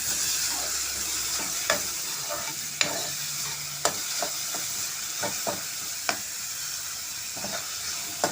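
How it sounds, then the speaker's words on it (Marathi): Onion and curry leaves fry in a pan with a steady, close sizzle, broken by sharp clicks and scrapes as a utensil stirs them now and then. "त्याच्यामध्ये मी हा कांदा घालते, त्याच्यामध्ये कढीपत्ता घालते."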